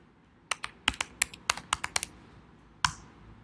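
Keystrokes on a computer keyboard tap out a short burst of about a dozen crisp, close clicks in an uneven rhythm, followed by a pause and one final keypress.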